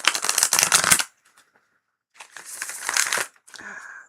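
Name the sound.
tarot cards being shuffled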